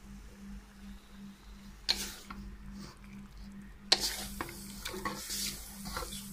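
Pieces of beef sizzling in a little oil in a pan with a steady low fry, stirred by a utensil that clatters and scrapes against the pan in two bursts.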